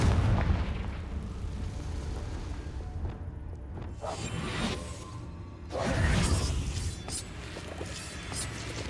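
Confringo spell blasts in the Hogwarts Legacy video game, booming explosive bursts with whooshing tails, a couple of big impacts standing out over a rumbling game soundscape, no talk.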